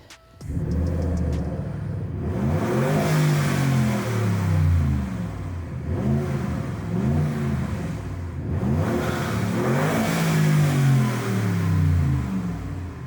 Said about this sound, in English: So we actually eliminated the rev limiter on it. So you can rev it pretty high.